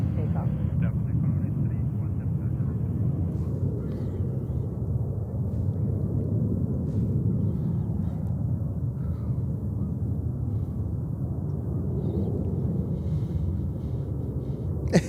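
An Asiana Airbus A350-900 airliner at JFK airport gives off a sustained, distant jet roar, a low rumbling wash that stays steady throughout.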